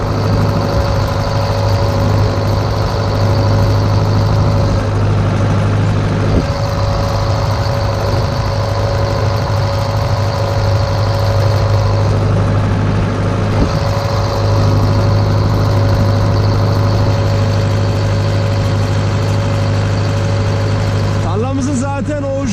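A Steyr 768 tractor hoeing between sunflower rows runs with a loud, steady low engine drone and a constant whine that carries on unbroken, close to the microphone, with a voice speaking over it at times.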